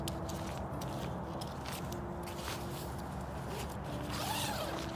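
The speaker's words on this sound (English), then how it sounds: "Unzips fully. That's a nice zipper pull there too, and reflective." A zipper opens on the carry bag of a Crua Core inflatable six-person family tent, a close, steady raspy zip running for several seconds without pause.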